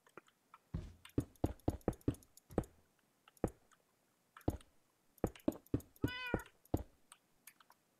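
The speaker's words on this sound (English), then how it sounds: "Oh, that's a black cat." A black cat meows in a Minecraft-style farming world, one clear harmonic meow rising out of a string of sharp clicking and chewing-like ticks that come in quick bursts.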